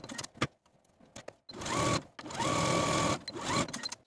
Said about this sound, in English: take it to your sewing machine and edge stitch close to that inner fold